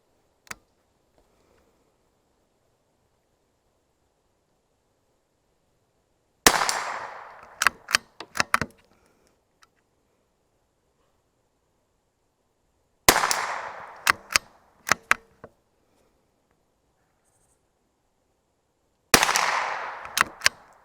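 Savage Mark II FV-SR rimfire rifle fired at a 40-yard target, sharp cracks in three spaced groups of several quick shots each, with near silence between groups.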